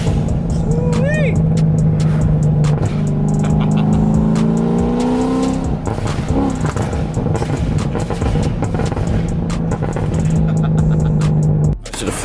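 A C6 Corvette with an LS3 V8 and BTR stage 4 cam revving on throttle blips, its engine note rising and falling several times over a lumpy idle, loud and close, with someone talking over it.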